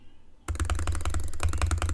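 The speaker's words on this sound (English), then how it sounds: "clicking it with the tip of my fingers for the Model O" A Model O gaming mouse is clicked very rapidly with the fingertips. After a quiet start, a dense, fast stream of crisp, close clicks runs steadily to the end.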